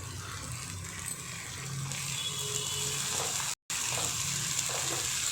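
Coriander and mint leaves frying in oil with ginger-garlic paste for Telangana bagara rice, a soft continuous hiss and sizzle with a low rumbling undertone, fairly quiet and steady, with a brief dropout near the end.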